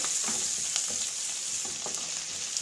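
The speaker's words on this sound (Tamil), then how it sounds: "கருவேப்பிலை, பூண்டும் கூட இதில் போட்டுக்கிடலாம். இதெல்லாம் நல்லா வதக்கிக்கோங்க." Onion, curry leaves and garlic sizzle and fry steadily in a pan while being stirred for a raw banana poriyal, a close, even crackle with faint stirring scrapes and no talk.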